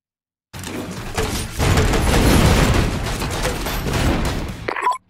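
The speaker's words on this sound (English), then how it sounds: "Shoot both weapons." Weapons in the PC game Vicious Attack Llama Apocalypse, including the Flaminator, fire in a dense, continuous barrage of bursts and mechanical clatter that starts abruptly, roars for about four seconds and then cuts off.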